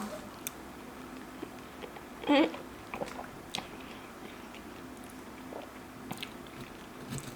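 Someone bites and chews fresh pineapple close to the microphone, a single crisp crunch followed by quiet, scattered soft chewing sounds in a hushed room.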